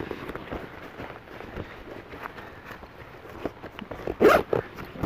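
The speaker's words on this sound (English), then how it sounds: "Zip this back up real quick." A Wisport Zipperfox 25L backpack zipper being pulled closed outdoors in light rain, a series of short scratchy zipping strokes up close, ending in a louder, longer rasp near the end.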